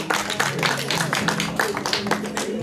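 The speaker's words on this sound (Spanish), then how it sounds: "Un fuerte aplauso" Guests at a fifteenth-birthday celebration give the godparents a strong round of applause, dense steady clapping from a nearby crowd that carries on throughout, with faint voices mixed in underneath.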